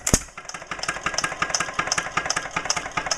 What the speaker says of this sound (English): This particular model of engine is known as the hop and pop because every time it hits, it will jump about 2 or 3 inches off the ground